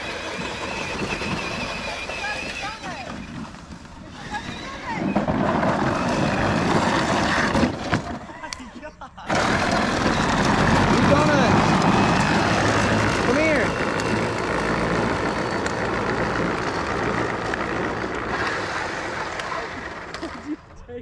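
Electric motors of a Power Wheels Dune Racer Extreme, upgraded and running on 18 volts, whir with a steady broadband rush while the ride-on toy cuts donuts outdoors, with a brief dip near the middle and no talk.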